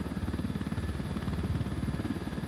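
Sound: drone deploying in a video game

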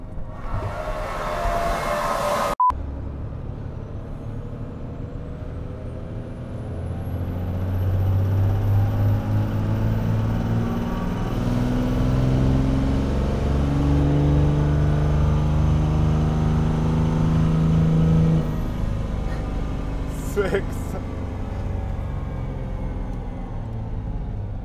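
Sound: diesel truck engine revving during a dyno run

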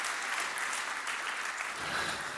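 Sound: audience applause at a conference keynote

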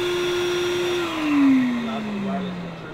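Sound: Makita cordless vacuum cleaner starting with grinder via Bluetooth

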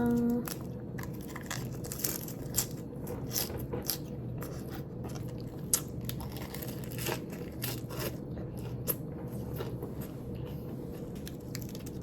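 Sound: eating lettuce wraps with grilled beef rib meat

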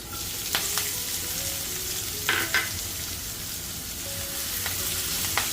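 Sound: chopped onion sautéing in oil with asafoetida for upma

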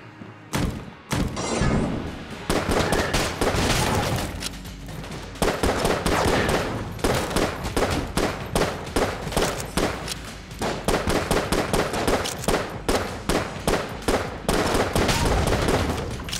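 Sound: explosion and gunfire in the video game Enter the Gungeon

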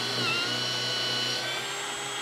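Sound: impact driver drilling a 5/16 inch pilot hole

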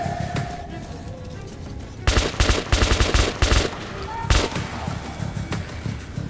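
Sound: gunfire from video game Metro Last Light Redux

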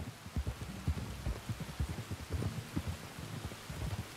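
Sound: rain in Red Dead Redemption 2 video game

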